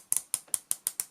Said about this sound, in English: it is a 120 click unidirectional bezel, but a really lovely action